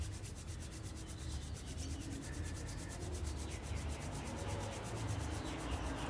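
Palms rub briskly together in a steady, continuous back-and-forth swish, close and fairly soft, with no speech over it.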